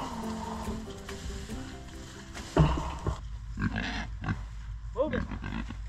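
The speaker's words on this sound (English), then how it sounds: "We just moved these three feeder pigs to a new area." Three feeder pigs grunt and snort close by, with scattered squeals and rustling, while a person talks over them.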